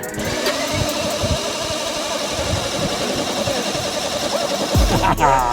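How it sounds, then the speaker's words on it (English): Lifted custom Ford F-250 RC truck doing a four-wheel burnout, a continuous loud whirring electric motor with spinning tires, steady throughout before a brief higher whine near the end. "How about a four-wheel burnout?"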